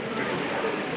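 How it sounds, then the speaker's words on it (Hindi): Heavy rain pours steadily outside a block assembly hall in India, a dense, even hiss of drops on surfaces with no let-up over the short stretch. "बाहर बहुत तेज़ बारिश हो रहा है, बहुत तेज़ बारिश हो रहा है"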